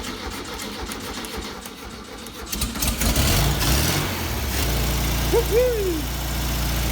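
Old Volkswagen Beetle engine cranks a few seconds, catches with a rising roar, then settles into a steady low idle; a voice whoops with excitement over the running engine.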